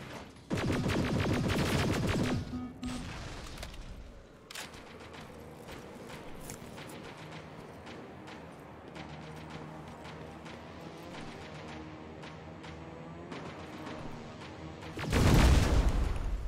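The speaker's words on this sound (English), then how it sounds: "Oh boy, that was a big explosion." Explosions in the video game Terminator: Resistance: a loud burst of blasts at the start, a quieter stretch of crackling debris and clatter, then another heavy boom near the end, all without speech.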